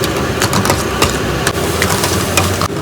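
A motorbike engine idles at a roadside food stop, a steady low rumble that runs unbroken and fairly loud for the whole stretch.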